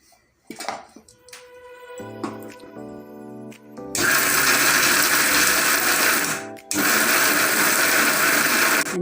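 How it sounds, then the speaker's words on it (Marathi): A kitchen mixer grinder grinds a sabudana vada mixture, first some clattering and a rising motor, then two loud, steady bursts of whirring and grinding, close, separated by a brief pause. "आता आपण हे मिक्सरला ग्राइंड करून घेऊया."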